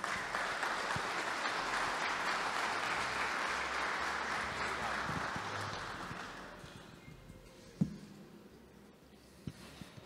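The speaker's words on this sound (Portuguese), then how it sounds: "Uma salva de palmas." Audience applauds a speaker being welcomed to the stage at a conference talk, a broad sustained wash of clapping that fades out over several seconds, with a few knocks and a voice as it dies away.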